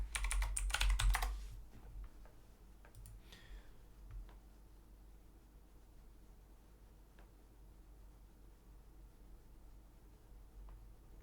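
Brief, dense burst of computer keyboard typing at the very start while a Palo Alto firewall domain and password are entered, followed by a few scattered faint key taps over a quiet room hum.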